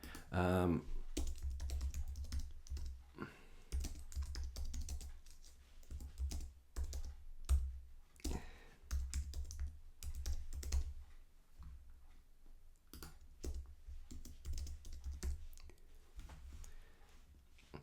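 Keywords are typed on a computer keyboard in close, rapid bursts of clicking keystrokes with brief pauses between runs.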